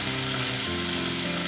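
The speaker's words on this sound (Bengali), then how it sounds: "পেঁয়াজটা ভেজে নেবো আমি" Onions and green chillies frying in oil tempered with radhuni, a dense, loud, even sizzle with a faint low hum underneath throughout the short stretch.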